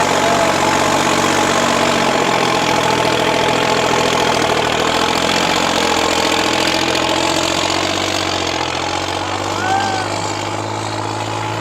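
A New Holland 3630 tractor engine runs steadily at close range, a loud continuous low drone with a slight change in tone near the end as a higher gear goes in; voices are faintly audible over it.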